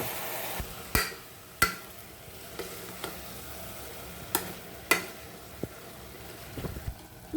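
A spoon stirs dal curry in a pot with turmeric and salt, giving a few distinct scrapes and clinks spread over a low, steady cooking hiss, with no voices.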